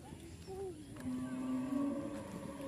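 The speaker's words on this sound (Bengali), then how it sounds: "ওদিকে আর অনেক গরু ডাকতেছে।" A cow at a dairy farm in Savar lets out a long, rising moo at close range, with a short earlier lowing call and faint farmyard background noise.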